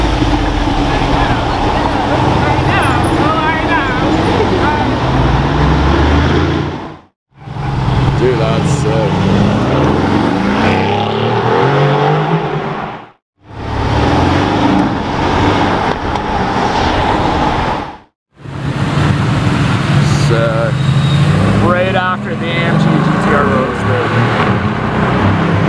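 A Mercedes-AMG GT R Roadster drives past in a loud, close engine rumble that swells and cuts out in sections, with people talking over the sound.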